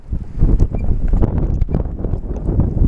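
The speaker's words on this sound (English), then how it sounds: "one thing about this place, it was always windy" Gusty wind rumbles loudly against the microphone outdoors, buffeting in uneven bursts with no voices present.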